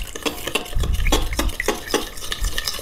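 A utensil stirs sauce in a pan as water is added bit by bit for Korean canshoseou shrimp, giving repeated scraping strokes with clinks against the pan over a low bubbling sizzle, close and fairly loud.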